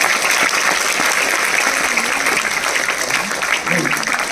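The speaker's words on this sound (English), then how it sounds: "So I think a big clap for women." An audience claps loudly and steadily for women scientists of ISRO at a STEM summit, with sustained applause filling the hall and a few voices audible underneath.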